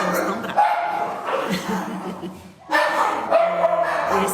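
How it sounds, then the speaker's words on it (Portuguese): Angry dogs bark and yip repeatedly in bursts, loud and fairly close, mixed with a person talking over them. "Os cachorros estão bravos."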